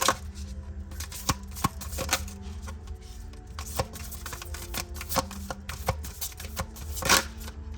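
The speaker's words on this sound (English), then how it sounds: "the more I use these cards, the easier they'll be to shuffle eventually" Tarot cards being shuffled by hand, with repeated sharp riffling snaps and soft slides in an irregular rhythm, close and fairly quiet.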